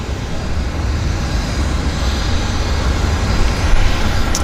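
Airplane departing Vancouver airport for Nanaimo, a broad distant roar of jet or propeller noise rising slowly and holding steady, heard alone without talk.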